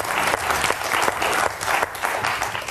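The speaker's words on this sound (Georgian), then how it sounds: "აპლოდისმენტები მეგობრებო." Studio audience at a comedy game show breaking into dense, steady clapping that holds at full strength for the whole stretch, close and loud.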